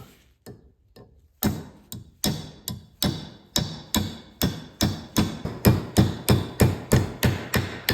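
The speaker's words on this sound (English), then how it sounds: "you can really start hammering it home here" Sharp hammer blows drive a vintage double-bit axe head onto its wooden handle in a steady rhythm, a few light taps at first and then firm, evenly spaced strikes, loud and close.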